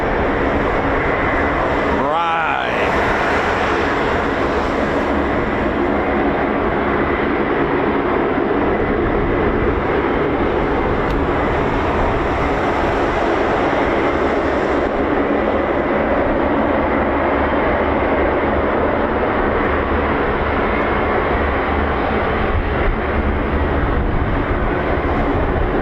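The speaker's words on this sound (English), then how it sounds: "C-17's moving, we're going to get a C-17" A C-17 military transport aircraft moves at a US Air Force base in England, its engines a loud, continuous broadband roar that holds steady throughout, with a voice talking over it.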